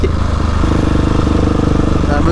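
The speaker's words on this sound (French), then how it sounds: "La moto elle fait ces bruits." A motorcycle engine chugs and clatters loudly and close in a steady pulsing rhythm while the bike is ridden.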